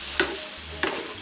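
Prawns and bacon being stirred in a hot frying pan with salt and pepper, a steady close sizzle with two brief scraping stirs of the utensil against the pan.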